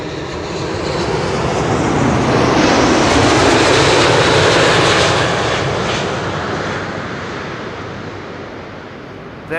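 A KLM Boeing 777-200 on flight 604 from LAX roars in to land on the Kaagbaan runway at Schiphol, a loud, sustained broadband engine rumble that swells and then slowly fades as the airliner passes.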